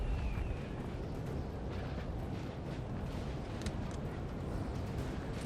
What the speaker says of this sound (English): Looks like the UK alliance is firing on their house with artillery.